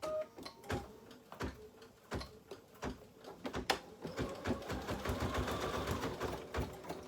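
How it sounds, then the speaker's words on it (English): Domestic sewing machine running a straight stitch for embroidery work, heard as a fast rattling mechanical whir with irregular knocks and thumps, close and fairly steady throughout, with no talking. "Tell my machine what foot I have on, and again I'm just going to do a straight stitch."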